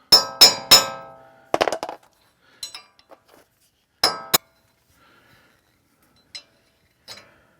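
A handful of sharp metallic taps, clinking in short irregular bursts with quiet gaps between, from a chisel struck against a loose wheel bearing on a 2011 Toyota Tundra, up close.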